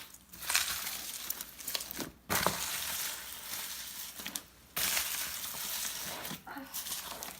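Homemade floam slime packed with foam beads is squeezed and squished by hand, giving dense crackling, crinkling and sticky squelching bursts that run near and steady through the clip with a few brief pauses.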